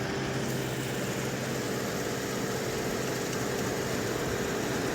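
A New Holland Workmaster 105 tractor engine working a rotavator, heard as a loud, steady, unbroken rumble and drone that holds the same pitch throughout with no change in speed.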